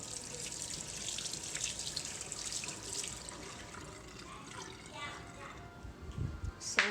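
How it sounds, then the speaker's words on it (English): A tap runs steadily into a kitchen sink as hands are washed under it during dinner cooking, a soft continuous splash close by that thins toward the end, with a brief louder clatter at the finish. "And now I'll wash my hand."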